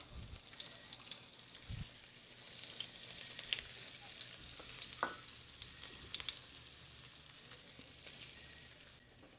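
Onion and ginger sizzling softly in hot oil in a pan, a faint continuous crackle with scattered small clicks and a brief knock.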